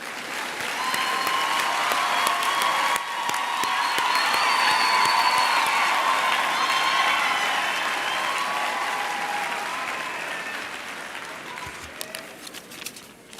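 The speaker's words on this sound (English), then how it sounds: "Can we just give another round of applause to Prof?" Sustained audience applause with some cheering at a university graduation ceremony, a full hall clapping steadily for over ten seconds before slowly thinning out.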